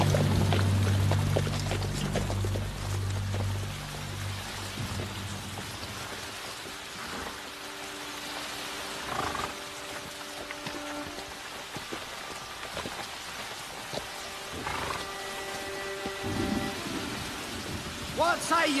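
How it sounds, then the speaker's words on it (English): Heavy rain pours and patters on surfaces in a film storm, steady and loud, with a low thunder rumble early on and occasional brief distant tones over the downpour. "Abbot, Marcus, we seek shelter from the storm."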